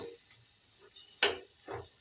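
Spiced masala being stirred in a frying pan for a Tamil bread kola urundai recipe, quiet sizzling with a few scraping spoon strokes against the pan, the sharpest one near the middle.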